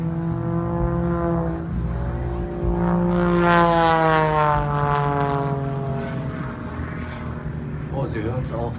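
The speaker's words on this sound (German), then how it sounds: "Oh, Sie hören es auch, das Triebwerk ächzt manchmal ganz schön." Propeller engine of an aerobatic display plane straining through a manoeuvre at the Erfurt airport festival, a loud sustained drone whose pitch rises and falls as the throttle changes, with someone commentating in German over it throughout.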